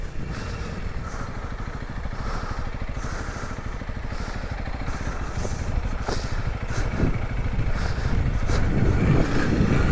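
A 2022 Honda CRF300L motorcycle ridden slowly off-road, its single-cylinder engine chugging steadily nearby with a low throbbing pulse and light wind rush, growing slightly louder toward the end.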